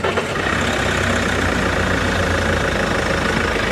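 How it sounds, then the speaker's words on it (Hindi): The diesel engine of a used car idles loud and close, a steady low rumble with an even, unbroken clatter and no voices. "एक बार इंजन स्टार्ट करके आवाज़ देख लेते हैं।"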